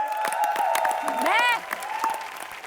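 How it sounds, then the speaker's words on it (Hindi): Studio audience on a TV entertainment show clapping, a steady patter of applause carrying under a sustained tonal musical sting and a brief voice. "शिल्पा के लिए जोरदार तालियां, एक बार खड़े हो जाइए।"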